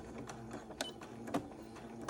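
A sewing machine stitches a straight line next to entredeux on batiste, running as a faint, quiet mechanical whir with a few soft clicks in a short burst.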